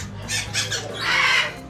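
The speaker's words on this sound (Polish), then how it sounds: "Ary auricolis, o, też dosyć rzadko spotykane ptaki." Harsh, raspy blue-throated macaw squawks, three short calls followed by a longer drawn-out screech, fairly close and loud over a low background hum at a parrot breeding facility.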